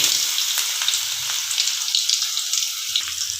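Bitter gourd pieces frying in hot oil with mustard seeds and cumin, a steady bright sizzle with scattered crackles and pops, close and continuous, no voices.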